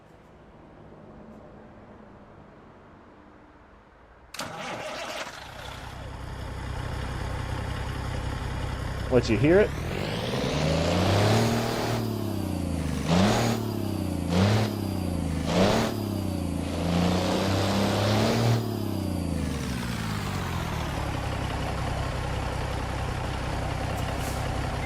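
A custom Peterbilt truck in American Truck Simulator cranks and fires up after a quiet stretch, settling into a loud diesel idle, then revving repeatedly in rising and falling surges before holding a steady rumble, with someone talking briefly over it.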